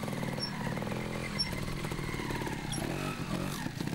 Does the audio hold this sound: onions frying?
no